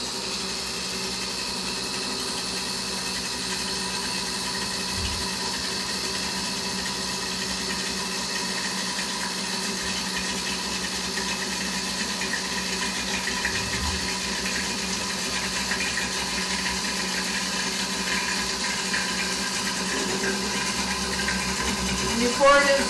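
A kitchen blender runs on its low stir setting, a steady even motor whir and hum that holds unchanged for over twenty seconds, with no voices over it.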